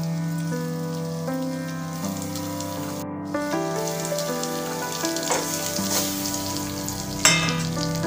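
Okra cooks in a covered pan with a continuous soft sizzle and crackle, heard under background music with tonal notes.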